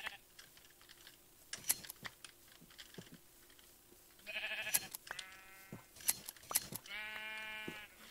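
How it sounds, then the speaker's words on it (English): Quick clicking snips of shears on sheep in Minecraft sound in short bursts, mixed with several sheep bleats, some near and sustained, over a quiet background. "It literally sounds like they just recorded the sound of someone using scissors"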